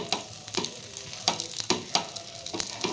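A Kutchi dabeli roasting on a hot pan, soft steady sizzle broken by several sharp spatula taps and scrapes as it is turned, close up.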